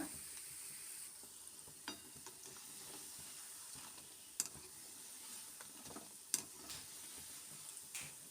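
Moong dal fritters, pesara punugulu, fry in hot oil with a faint, steady sizzle, broken by a few soft clicks and taps as they are stirred, with no talking over them.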